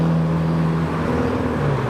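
Tuner cars pull into a Japanese car meet in Reading, including a purple Ford Focus with a large spoiler. A loud, steady engine drone rolls close by, with no talking.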